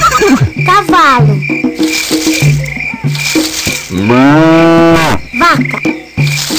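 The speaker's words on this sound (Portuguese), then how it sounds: "Vaca." A cow gives one long, low moo that swells and fades, framed by playful electronic melody blips before and after.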